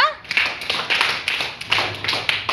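Schoolchildren in a classroom clap together during a maths addition activity, giving a quick run of sharp, rhythmic claps in bursts that stay close and fairly loud.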